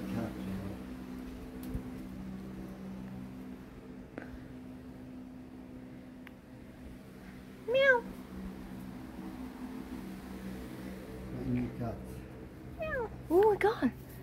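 A house cat meows a few times at an old house in Barjac, France, short faint calls around the middle and a pair near the end, under a steady background hum with people talking.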